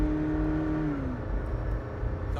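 A 2015 McLaren P1 sports car engine hums steadily up close, its tone sliding lower partway through as the revs ease off, with a constant rumble and no talk over it.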